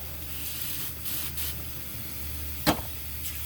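Deodorizer foam is sprayed into a Dyson DC33 dirt bin in a few short hissing bursts, the sharpest near the end, over a faint steady background.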